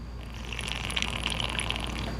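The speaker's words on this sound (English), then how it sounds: "Here's what it sounds like if I drink this right next to the mic." Water gulped from a water bottle held right against a microphone, giving close, wet, bubbly sloshing with gurgling pulses over a steady low hum.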